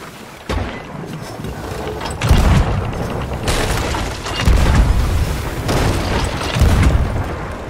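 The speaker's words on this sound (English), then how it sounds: "I'm shooting the brig now." Ship cannons firing in the pirate video game Sea of Thieves, several heavy booms spaced out over a few seconds, loud and close with rumbling tails over a continuous background of game noise.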